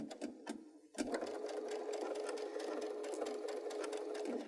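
Sewing machine stitching quilt binding along a marked diagonal line at a short piecing stitch length, a steady rapid whirring hum after a brief pause, close and alone.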